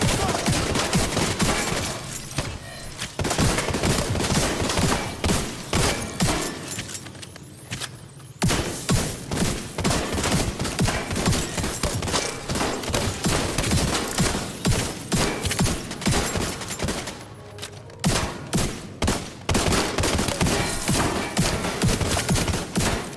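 A video game boss fires a minigun in relentless rapid bursts, loud and close, with dense automatic gunfire and short pauses, heard alone without talk.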